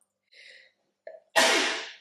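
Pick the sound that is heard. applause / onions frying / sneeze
sneeze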